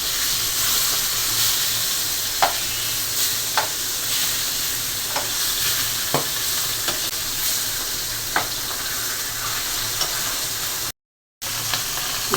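Fish fries in a pan with a continuous loud sizzle and hiss, broken by occasional sharp clicks of a utensil turning the pieces, and a brief dropout near the end.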